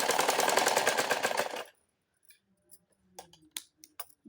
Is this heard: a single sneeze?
no